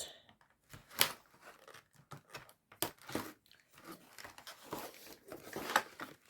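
Scissors snipping through plastic ties on a Barbie Looks doll's packaging, close and quiet, an irregular series of crisp cuts, crinkles and rustles of plastic.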